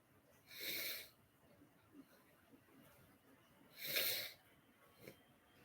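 Two short, breathy sneezes burst out during a crochet livestream, one early and one a few seconds later, each followed by a soft sniff against a quiet room.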